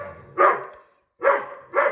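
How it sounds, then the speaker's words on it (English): Puppies barking in three sharp, close bursts while squabbling over a toy, with brief silent gaps between the yaps. "the puppies were fighting over a toy"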